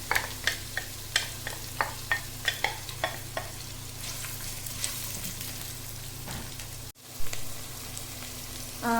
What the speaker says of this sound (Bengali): পেঁয়াজটা এখানে হতে থাকুক এবং বেরেস্তাটাও রেডি হতে থাকুক